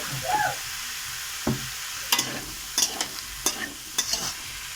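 Cabbage curry frying with spices in a pan, a continuous sizzle broken by a series of sharp utensil scrapes and knocks against the pan at roughly regular intervals.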